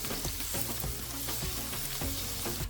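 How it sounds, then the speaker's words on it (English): Onion sautés in hot vegetable oil with a steady close sizzle and occasional stirring taps, no voices. "first I saute an onion in vegetable oil"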